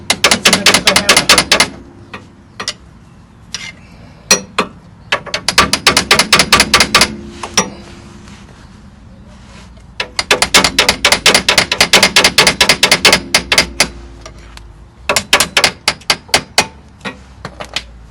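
Sharp metallic hammer blows ring out in rapid bursts, loud and close, with short pauses between each flurry of strikes, hammering to remove a front CV joint on a Volkswagen T3 Syncro.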